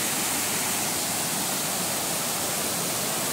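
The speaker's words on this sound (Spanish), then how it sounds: "Y estas son las cascadas," A waterfall at the Cascadas Encantadas roars as a steady, broadband rush of falling water, loud and unbroken throughout, with no voices.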